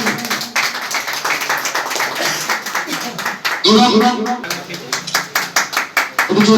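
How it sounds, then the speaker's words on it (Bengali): A crowd at a political preparatory meeting in Mathurapur claps in uneven bursts while a voice talks loudly over it, with sharp rhythmic claps standing out near the end. "জোরে তালি দাও সবাই"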